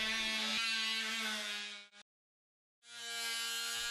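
A Worx WX673 Sonicrafter 12V lithium-ion multi-tool flush-sawing wood gives a loud, steady high-pitched buzz that cuts out for about a second, then starts up again.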